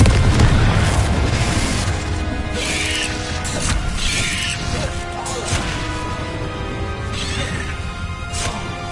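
A Confringo fire spell blasting in the Hogwarts Legacy video game, with a loud opening boom and crashing impacts that give way to a dense rumbling wash of spell effects and bursts over several seconds.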